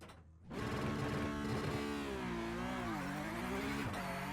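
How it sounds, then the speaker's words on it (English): Car engine revving hard at launch in a sim racing game with Conspit CPP Lite pedals, a rising, wavering whine as the wheels spin, loud and steady after a brief quiet start. "Wheel spin there, see, not very consistent."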